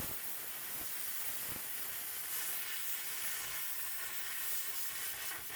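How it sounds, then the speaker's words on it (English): A plasma cutter slicing through trailer metal, cutting off the tabs that held the original axle: a continuous rushing hiss of air, steady and fairly close, with a few faint knocks at the start and no voices. "Next came me using a tool that I hadn't ever used before, the plasma cutter"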